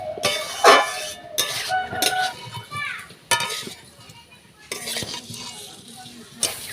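Potatoes being stir-fried with spice paste for Bengali aloo dum, with a spatula scraping and clanking in the pan over a soft sizzle, close by, with background voices and children's chatter.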